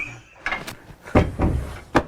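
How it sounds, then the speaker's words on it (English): A door is opened with a series of close wooden knocks, rattles and thuds, a handful of sharp bumps spread irregularly across two seconds, with a clattering burst near the middle and a final knock at the end. "they just keep opening the door."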